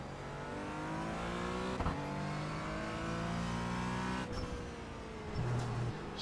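A Porsche Cayman GT4 race car with no clutch pedal revs hard on the Brands Hatch circuit. The engine climbs steadily through its rising pitch with brief dips at gear changes, and the sound stays loud and close throughout.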